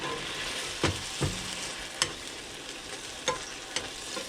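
Cooked risotto is reheated in a pan, with a steady sizzle under the occasional scrape of a spoon stirring the rice. The sound is close and moderately loud, and no one speaks.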